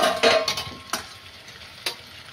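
Potatoes tipped into a pan of Bengali-style slow-cooked mutton curry, giving a few soft clattering thuds and stirring scrapes over a faint, low sizzle.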